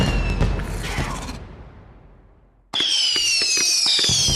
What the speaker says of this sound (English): Do some fireworks before everybody leaves.